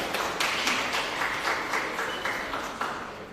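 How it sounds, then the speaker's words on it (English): An audience at a credit union annual general meeting claps for a prize winner, a fairly faint, steady patter of many hands in a room, with no voices over it. "Give a round of applause."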